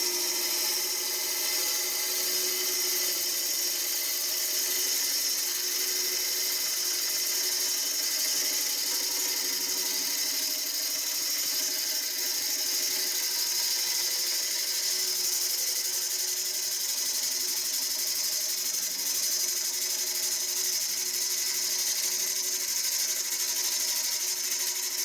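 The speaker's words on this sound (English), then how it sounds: "When it's running true, you'll hear one continuous cut." A woodturning tool cuts a calabash bowl spinning on a lathe, producing one continuous, even, loud whirring cut that holds steady for the whole stretch without pauses or talk.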